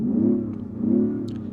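Pumped-in synthetic exhaust note inside the cabin of a 2023 BMW XM, a steady mid-pitched engine drone that swells twice in slow rev-like surges and carries no talk.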